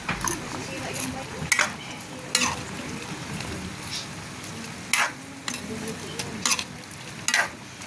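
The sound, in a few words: frog sautéing in a pan with kamias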